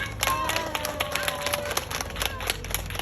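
An outdoor audience applauds at a magic juggling street show in Jochiwon, a steady patter of moderate clapping from a small crowd with a few louder claps and faint voices mixed in.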